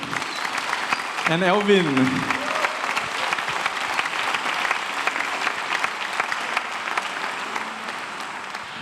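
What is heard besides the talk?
audience applause for soloists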